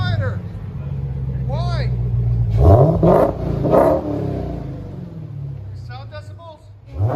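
A 2018 Dodge Demon with a 6.2L supercharged Hemi V8 and Kooks cat-back dual exhaust idles with a deep rumble, then barks out several sharp revs before settling back, close and loud, while people talk over it.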